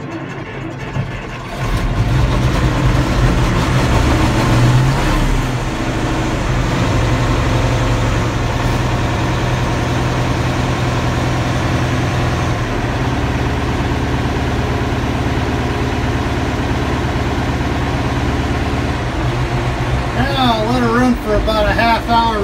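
A John Deere-style 1155 farm tractor engine idles after a cold start, a loud, steady low rumble running continuously and close for the whole stretch, with a brief rev near the end.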